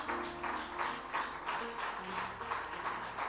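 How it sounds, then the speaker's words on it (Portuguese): An audience at a sermon applauds, with faint, rhythmic clapping in regular pulses and low sustained musical tones underneath. "Pode aplaudir, pode aplaudir."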